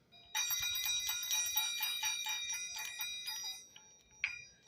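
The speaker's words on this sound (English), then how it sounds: "I also found these Chinese cloisonne balls, the ringing balls." A pair of Chinese cloisonne ringing balls, the feng shui hand balls, jingle together in bright, bell-like chimes, rapid and rhythmic, then slow to a few isolated rings with a final lone ding.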